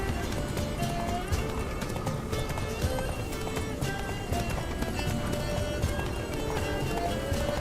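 Fast, continuous hoofbeats of a galloping horse in The Witcher 3: Wild Hunt, close and loud, mixed with background music and ambient noise.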